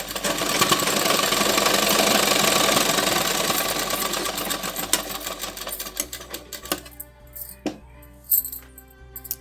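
Sewing machine stitching a sleeve onto a ready-made kurti runs in a loud, steady whir for about six seconds, then slows to scattered clicks and short mechanical bursts.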